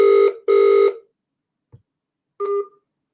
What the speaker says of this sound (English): I don't know if that was Bobby ringing me or somebody else